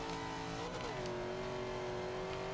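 Rear-wheel drive car in the Forza Motorsport 5 racing game, its engine drone dropping in pitch as it brakes into a turn, then holding a steady hum, loud and continuous with no talking.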